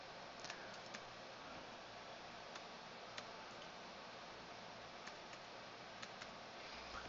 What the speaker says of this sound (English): We'll call it Work, and we'll just type down the date that you're starting